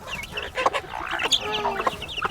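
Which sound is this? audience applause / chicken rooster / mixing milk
chicken rooster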